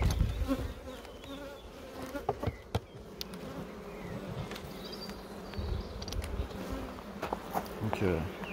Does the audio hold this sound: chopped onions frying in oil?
no